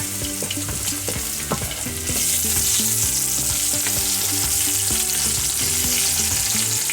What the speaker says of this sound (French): Je mets les oignons. Et je laisse brunir les oignons. Je vais rajouter les tomates, les morceaux de tomates.